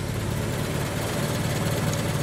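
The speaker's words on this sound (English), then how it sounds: "And that's the engine running, right." A Ford Model T engine idles steadily after starting, its low, even rumble continuing without a break and no voices on top.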